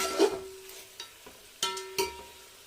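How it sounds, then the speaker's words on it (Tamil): Green chillies and salt stirred in a pan while cooking mutton biryani: a few distinct scraping strokes of a spoon against the pan over a faint background sizzle, with no talking. "இதில் ஒரு ரெண்டு பச்சை மிளகாவும் போட்டலாம் போட்டு நல்லா வதக்கிக்கலாம்"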